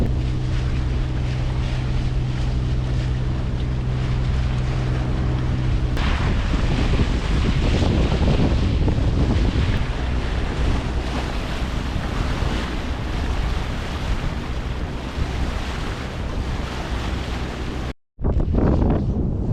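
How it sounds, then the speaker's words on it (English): Strong wind roars over the microphone aboard a sailboat motoring toward an anchorage, with waves and surf washing steadily around the hull, loud and continuous before cutting out abruptly near the end. "we do have some wind, but it's right on"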